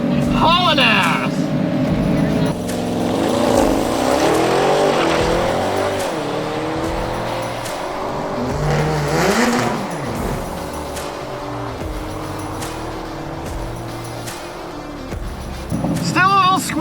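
An Audi RS6 launches hard with all four tires spinning, its engine revving loudly and rising through gears at close range, tires squirming, with people talking over it.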